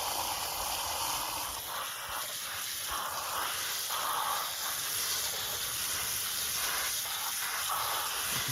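Water rinsing out a rock tumbler barrel after a run of epidote, a steady close hiss and splash of flowing water without pause and no speech.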